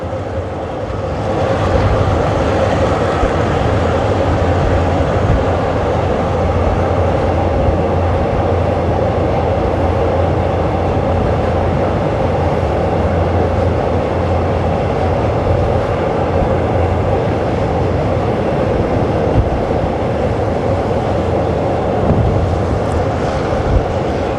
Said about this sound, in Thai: รถไฟวิ่งบนทางยกระดับ